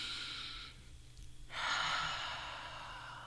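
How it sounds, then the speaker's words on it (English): A slow, deep breath during a relaxation exercise, a long airy inhale followed by a brief pause and a fuller, breathy exhale, close and soft, with no talking. "take a big, deep breath with me"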